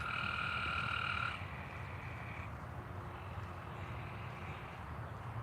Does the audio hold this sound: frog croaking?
yes